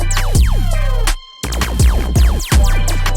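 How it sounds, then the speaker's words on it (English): Stacked laser zaps from a Fruity Kick layered with a 3X OSC synth: punchy bass thumps paired with bright downward-sweeping pitch streaks, repeating rhythmically with a brief gap partway through, no talking. "you can create a laser sound."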